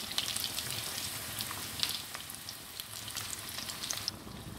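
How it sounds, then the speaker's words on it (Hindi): Mutton keema spring rolls deep-frying in hot oil, a steady dense sizzle and crackle with no talking. "बस ये 1 से 2 मिनट में फ्राई हो जाते हैं"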